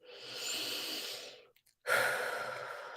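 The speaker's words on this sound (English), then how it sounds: "Take a nice deep breath." A slow deep inhale followed by a long exhale, close and soft, with a brief pause between the breaths.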